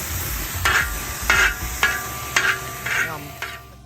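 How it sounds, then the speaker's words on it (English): Stir-fried rice cooks at a teardrop-trailer campsite gathering, with a soft sizzle broken by five or six evenly spaced scraping stirs of a spatula in the pan. No one speaks. "This is the start of an amazing stir-fried rice."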